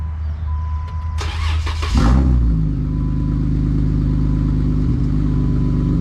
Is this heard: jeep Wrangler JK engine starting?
yes